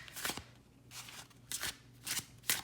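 A new black-edged tarot deck is shuffled by hand in five soft, crisp bursts of riffling card stock. The bursts are spaced about half a second apart and are quiet and close, with no talking.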